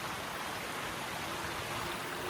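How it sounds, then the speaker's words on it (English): A stream flows outdoors in nature as a steady, dense, broadband rush of moving water, continuous and fairly close, with no voices over it. "There is water sound"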